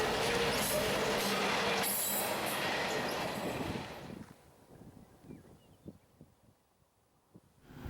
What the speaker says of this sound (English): It's here that we find the local train K09 rolling northbound heading for Weyburn.